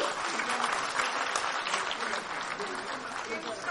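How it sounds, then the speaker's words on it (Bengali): An audience at a felicitation event bursts into loud, dense applause, a steady wash of clapping that holds throughout. "সবাই জোরে হাততালি"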